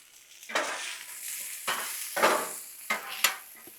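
Spatula stirring seasoning into cheesesteak fries frying on a Blackstone griddle, several scraping strokes over a soft continuous sizzle, close and quiet.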